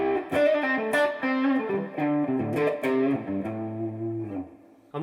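Electric guitar on the bridge pickup of a PRS through a NUX Steel Singer overdrive pedal, a short lively phrase of notes and bends with mild grit, ending on a sustained held note.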